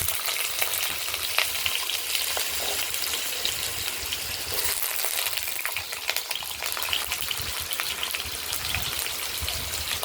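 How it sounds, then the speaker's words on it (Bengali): Potatoes fry in hot oil with white cumin for a potato and paneer curry, giving a steady, dense sizzle that runs unbroken throughout with faint stirring scrapes. "এরপর আলুগুলোকে এর সঙ্গে ভেজে দেব"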